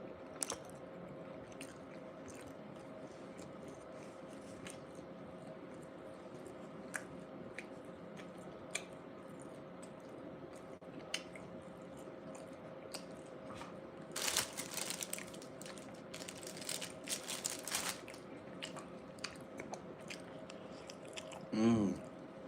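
Quiet, close chewing and biting on cheesy red hot bean burritos, with soft squishy, crinkly mouth sounds scattered throughout and a brief louder burst of rustling near the middle.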